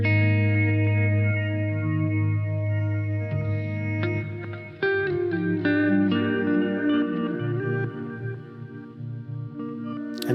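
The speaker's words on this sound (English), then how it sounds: "especially adding a reverb after and the delay that I used before" Looped music played through effects pedals with reverb and delay: sustained, layered droning tones with echoing repeats and a washy tail shift and change over ten seconds, loud and steady with no talking.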